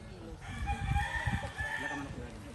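A rooster crows once in a drawn-out call at a chicken farm, moderately near, over faint background voices and low rustling.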